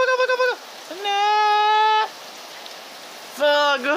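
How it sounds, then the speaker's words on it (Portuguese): Rain falls in the Zooba battle royale mobile game as a steady, soft hiss running through the whole moment, beneath loud, high-pitched vocal exclamations that come in short bursts. "Tá caindo chuva aqui dentro"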